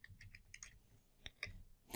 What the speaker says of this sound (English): select rename, and simply start typing the name.